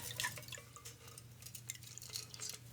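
A cocktail runs through a Strain Ray strainer into a glass, a close, quiet trickle of dripping and splashing liquid with light glassy clinks.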